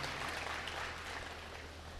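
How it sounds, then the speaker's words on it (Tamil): An audience applauds at the close of a Tamil debate, a steady, even wash of clapping heard faint and from a distance. "எல்லாருமே நல்லா ஒரு தடவை ஜோராக கைதட்டுக்கு முடிய போகுதுங்கிற சந்தோஷத்தில் கூட கைதட்டுக்க"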